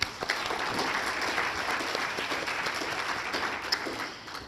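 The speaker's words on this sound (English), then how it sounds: "Let's give them all a nice round of applause" An indoor audience at the Delaware Women's Hall of Fame awards ceremony gives a continuous round of applause, many hands clapping evenly at moderate volume for several seconds.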